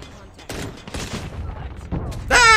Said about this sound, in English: Why are you still shooting?